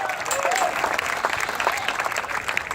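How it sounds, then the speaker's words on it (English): An audience applauds a race car driver at a motorsport event, continuous crowd clapping that stays loud and even, with an announcer's voice over it. "Give Todd a nice round of applause."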